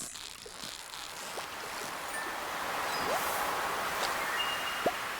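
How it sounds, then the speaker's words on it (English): Beach waves in Stardew Valley wash in as a broad, steady hiss of surf that slowly swells louder, with a few faint chirps and soft clicks over it. "It's so nice to hear just the beach. The beach and the waves."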